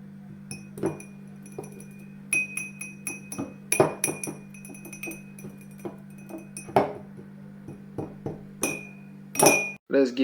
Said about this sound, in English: this performance consists in using 33 glasses with different sizes filled with a certain amount of water to mimic harp sounds